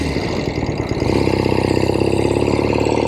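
A 1970 Royal Enfield Interceptor 750 Mk II motorcycle engine runs steadily up close, its loud, even thrum holding throughout with a slight rise in intensity after the first second.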